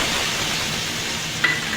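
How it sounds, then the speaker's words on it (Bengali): Chopped ginger sizzling in hot oil in a wok, a steady close hiss of frying with a brief sharp tick near the end. "তেলটা গরম হয়ে গেছে, দিয়ে দেব আদা কুচি"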